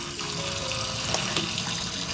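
Small shrimp being rinsed by hand under running tap water in a home kitchen, a steady close splashing rush that lasts the whole moment without a break.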